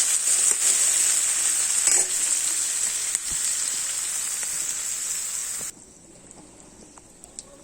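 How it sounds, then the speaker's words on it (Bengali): Onions frying in hot oil in a home kitchen, a bright steady sizzle with a few stirring clinks, fading much quieter near the end. "এবার পেঁয়াজগুলো ভেজে নিচ্ছি"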